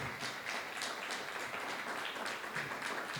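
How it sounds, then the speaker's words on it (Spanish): A church congregation applauds during a Pentecostal service, a steady, fairly faint wash of many hands clapping that fills the whole stretch with little talk. "denle un aplauso al Señor"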